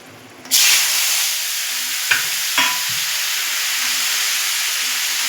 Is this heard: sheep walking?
no